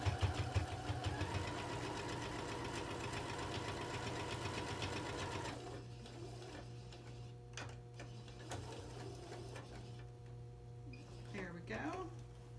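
A sewing machine stitching fabric for a simple fabric bin, a fast steady mechanical chatter that runs for several seconds and then stops, leaving a low hum and some soft handling noise.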